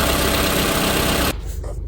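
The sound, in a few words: Toyota Alphard 30 series engine idling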